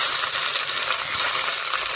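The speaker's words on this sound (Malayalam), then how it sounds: "കടുക് പൊട്ടി വരുമ്പോൾ ഇതിലേക്ക് കറിവേപ്പില അതുപോലെ ഉണക്കമുളക് ചേർത്ത് കൊടുക്കാം." Mustard seeds, curry leaves and dried chillies sizzling in hot oil for a Kerala yogurt curry, a dense, bright, steady hiss heard up close and fairly loud with no voices.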